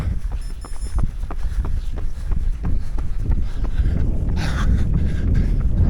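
Wind gusts into the microphone during an outdoor interval run on a track, a loud, steady roar with the rhythmic thud of running footsteps beneath it and no talk.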